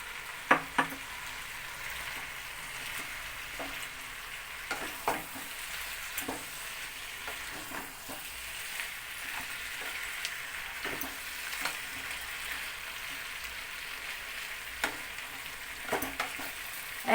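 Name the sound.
fried fish head pieces cooking with vegetables in a pan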